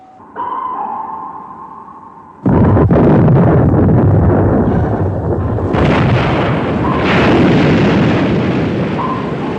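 Depth charges from a WWII American destroyer hunting a German submarine in the South Atlantic, 1957 film: a deep, loud underwater blast erupts after a faint tone, rumbling and surging for several seconds with later swells.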